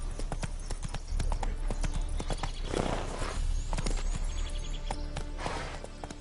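Roach, a horse in The Witcher 3, trots with a steady, close, loud clip-clop of hooves, and a whinny rises briefly in the middle and again near the end.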